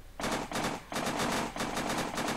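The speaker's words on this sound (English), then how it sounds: "Oh, machine. Oh. I think they're 50 cals on there." A .50 caliber machine gun fires in an Unturned WW2 mod video game, loud rapid bursts of gunfire in about four clusters with brief gaps between them, alone without talk.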